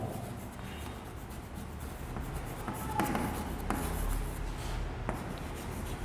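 Chalk or marker scratches and rubs across a board during a physics lesson, soft intermittent strokes set against a faint room hiss, quiet and close.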